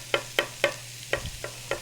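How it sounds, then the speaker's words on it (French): Meat sizzling in a pan, with about six sharp, evenly spaced utensil strokes as it is stirred; close and clear, no voices. "Bon, fait que là, notre viande cuit."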